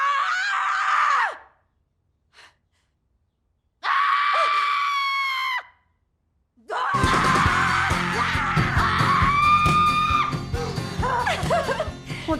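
Women scream loudly in a film trailer, with two long shrieks separated by silence, then a sustained chorus of overlapping screams and yells.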